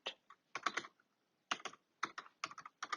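Keys clack on a computer keyboard as a password is typed, in short bursts of a few quick presses separated by brief pauses, close and fairly quiet.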